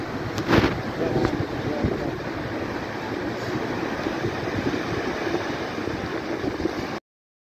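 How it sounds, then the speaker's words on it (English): A waterfall at Mahudan Lake pours with a steady, dense rushing wash of noise that stays even and fairly close for several seconds before stopping abruptly. "Waterfall."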